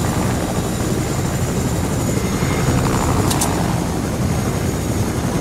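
Steady, loud rotor and engine drone of a helicopter in the video game Fortnite fills the whole stretch without pause, with a brief higher-pitched burst near the middle.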